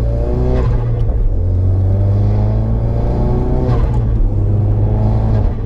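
A modified Mk3 Ford Focus RS with an aftermarket intake pulls hard, engine droning loud and close from inside the cabin with a throaty intake howl that rises through the revs and briefly dips at gear changes.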